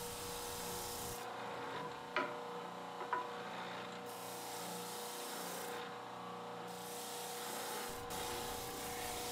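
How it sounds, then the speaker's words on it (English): A disc sander smooths the rough bandsaw cuts on a wooden spline-miter keepsake box. It makes a steady, close, continuous rasp of wood pressed against abrasive, broken by a couple of brief knocks, with no talking. "we'll just take this over to the disc sander"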